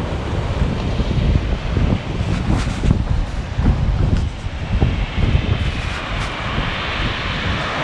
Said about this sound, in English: The waves coming in are brilliant.